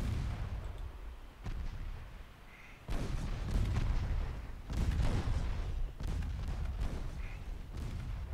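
Rapid weapons fire rolls in dense, rumbling bursts that overlap into a sustained barrage, loud and continuous with brief dips between volleys.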